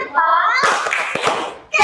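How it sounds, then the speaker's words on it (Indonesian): A class claps a short 'tepuk keren' chant for group 3, a few quick sharp claps and thumps with children's voices around them, ending in a sudden burst. "Kasih tepuk keren untuk kelompok 3"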